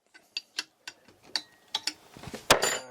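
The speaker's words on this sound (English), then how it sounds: "Step 4, loosen the mounting bolt." A wrench ratchets on an alternator mounting bolt on a boat engine, a series of sharp metallic clicks in an uneven rhythm, close and clear, with a louder clack near the end.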